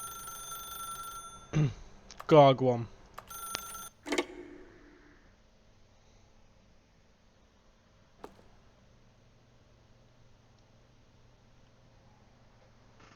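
Telephone ringing in the video game The Stanley Parable, a few short bursts of bright ringing from about 1.5 to 4 seconds, close and clear, followed by a faint click and near silence.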